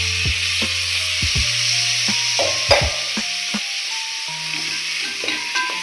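Half a kilo of chicken sautéing with ginger-garlic paste for biryani, stirred in a pot: a steady loud sizzle with scattered utensil knocks and scrapes, and a low tonal hum underneath.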